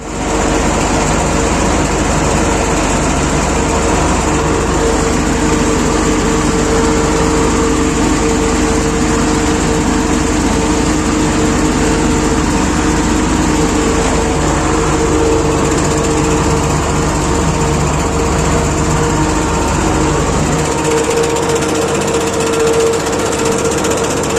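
A farm sprayer's engine drones steadily and loudly while driving through a pumpkin field during feeding, a continuous high-revving mechanical roar with no pauses and no voices.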